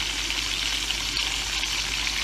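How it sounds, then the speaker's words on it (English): Shrimp scampi sizzling steadily in a hot pan, a close, even frying hiss with no talking. "Okay, so this is sizzling nicely."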